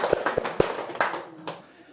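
A few scattered, close hand claps sound in a small room as a lecture group welcomes a teacher, sparse and uneven rather than a full round of applause, fading out within two seconds.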